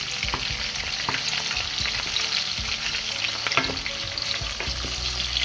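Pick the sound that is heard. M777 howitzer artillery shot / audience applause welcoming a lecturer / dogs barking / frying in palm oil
frying in palm oil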